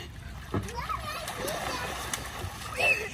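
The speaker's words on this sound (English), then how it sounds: "You're splashing." Water splashing in short bursts close by in a baby pool, with a voice and other talk mixed in.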